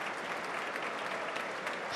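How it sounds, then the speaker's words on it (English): A stadium crowd at a Sunderland v Hull City Championship match gives steady, continuous applause for an injured centre-back being substituted, a dense even wash of clapping heard at a distance. "Sympathetic applause for the centre-back"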